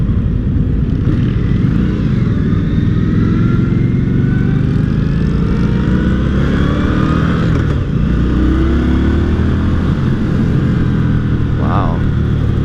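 An Indian Scout 60 motorcycle being ridden and accelerating, its steady engine drone mixed with heavy wind rush across the whole stretch, loud and continuous, with a faint voice briefly in the background.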